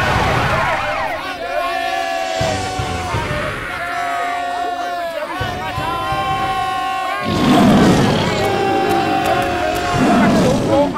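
Wailing fire brigade siren in a cartoon, rising and falling tones that swell louder as it approaches, mixed with crowd noise and other busy sound.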